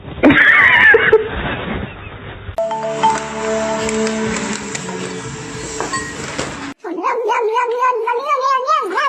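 A cat caterwauls in a long, loud, wavering yowl near the end, after an earlier high cry and a stretch of steady tonal noise, close to the microphone.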